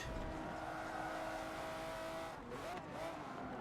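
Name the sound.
Lamborghini race cars overtaking in video game Forza Motorsport 7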